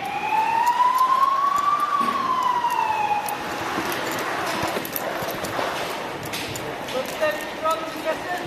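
A school alarm sounds during a fire, a wailing tone that rises then falls over the first few seconds before fading into loud, busy outdoor noise with people talking.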